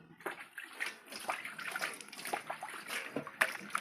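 Water is poured and tipped out while something greasy is being washed, giving irregular splashes, trickles and sloshes close by, with no talking.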